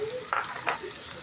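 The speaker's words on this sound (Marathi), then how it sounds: "कांदा मस्त गुलाबी झाला आपण एक टमाटर टाकू त्याच्यात" Onion and tomato fry in a pan while a utensil stirs them, giving two or three sharp metallic clinks over a soft, low sizzle in a short burst.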